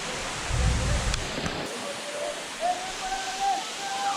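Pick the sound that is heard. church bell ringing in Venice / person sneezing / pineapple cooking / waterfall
waterfall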